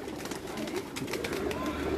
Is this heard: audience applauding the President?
no